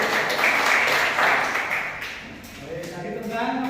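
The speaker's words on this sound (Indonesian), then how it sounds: "Dikasih aplaus dulu semuanya" Applause from a classroom of students, a broad wash of many hands clapping together for a few seconds, steady and fairly loud before easing off, with some voices mixed in.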